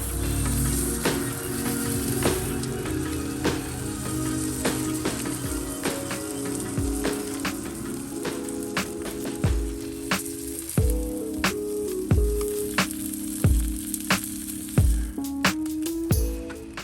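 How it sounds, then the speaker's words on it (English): Steak fat searing on a Blackstone griddle makes a steady, close sizzle and crackle throughout, with repeated sharper pops and hisses flaring up toward the end. "So right here, I'm searing the fat as well."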